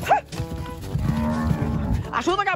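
A Nelore cow moos loudly and close by in one long, drawn-out low call, with brief shouts of people herding cattle before and after.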